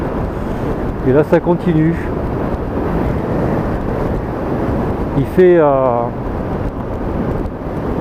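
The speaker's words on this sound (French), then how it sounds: "en plus il y a un super vent là" Strong wind gusting over a motorcycle on a cold mountain road lined with wind turbines, a steady roaring rush that runs the whole way under someone speaking French.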